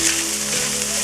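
Ground meat, chopped into small pieces and browning toward crispy, sizzles and fries in a pan for lasagna meat sauce, a steady close hiss with no talking.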